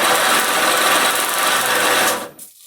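A small, quiet boat bilge pump hums steadily after being switched on, a close, even mechanical drone that cuts off sharply near the end.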